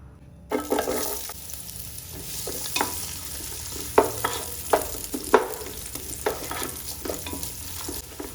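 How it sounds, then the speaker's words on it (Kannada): Onions frying in a little oil in a pan, a steady close sizzle with a series of sharp scraping stirs at irregular intervals, no voices present. "ಮೊದಲಿಗೆ ಈರುಳ್ಳಿ ಫ್ರೈ ಮಾಡ್ಕೊಳ್ತಿದ್ದೀನಿ ಸ್ವಲ್ಪ ಎಣ್ಣೆ ಹಾಕಿ"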